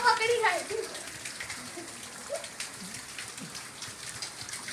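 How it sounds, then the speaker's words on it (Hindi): Steady rain mixed with hail patters on a surface throughout, with a brief voice at the start and scattered drips standing out against the hiss. "बारिश।"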